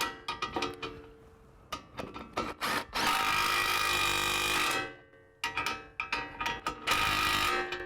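A power tool runs nuts down on a car's suspension near the brake assembly. It gives short repeated bursts, then two long sustained whirring runs, loud and close with a gap between them and no talk.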